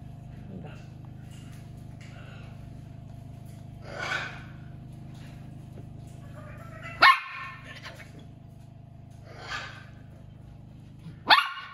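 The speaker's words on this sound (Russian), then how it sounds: "Прекратите гавкать." A poodle barking indoors around kittens, with a few scattered barks and sharp yelps: two loud, close bursts and several fainter ones over a steady low hum.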